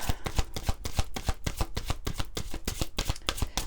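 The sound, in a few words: shuffling oracle cards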